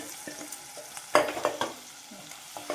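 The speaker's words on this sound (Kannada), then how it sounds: "ಈರುಳ್ಳಿ ಪೇಸ್ಟ್ನ ಹಾಕ್ಕೊಂಡು ಫ್ರೈ ಮಾಡ್ಕೊಳ್ಳೋಣ." Onion paste goes into hot oil with ginger and garlic and is stirred for a rajma gravy, giving soft sizzling with sharp scraping spatula clicks close by, quiet and uneven.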